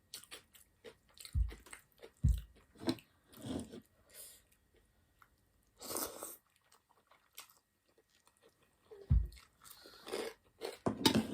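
A boiled egg is eaten up close, with soft bites and moist chewing in separate bursts divided by quiet gaps, with no speech over it.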